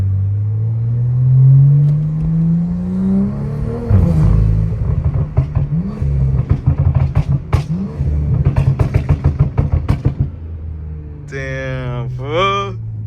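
A BMW M340i fitted with downpipes, revving with a deep rumbling idle that climbs into repeated sharp blips and crackles, loud and close, ending in a brief whine.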